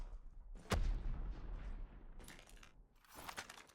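A grenade goes off in a tactical shooter game as a sharp, heavy blast with a booming low tail, followed by fainter crackling game sounds and later bursts of noise.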